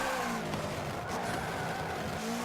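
Game audio of a 2016 Subaru WRX rally car in Forza Motorsport 7, a steady loud engine drone with a tire skid under a handbrake slide running through the whole moment, no voices.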